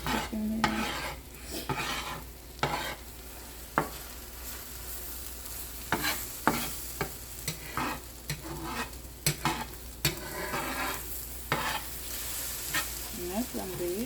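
Eggs frying in a pan for breakfast, a soft continuous sizzle punctuated by frequent sharp spatula scrapes and clicks against the pan, close and fairly quiet.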